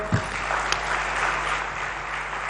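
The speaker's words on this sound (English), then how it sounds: "Does he deserve that round of applause, guys?" A live studio audience breaks into a steady round of applause at a televised cinema talk show, the clapping dense and sustained for a couple of seconds.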